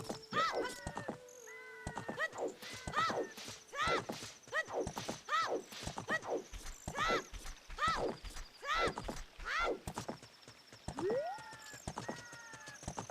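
Repeated horse whinnies and snorts from a video game's low-health warning, each a short rising-falling call recurring every second or so, running under steady commentator chatter.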